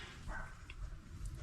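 Dogs bark in the distance, a few faint yips rising briefly over a low, steady background rumble.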